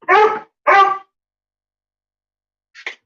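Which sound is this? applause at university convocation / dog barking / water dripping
dog barking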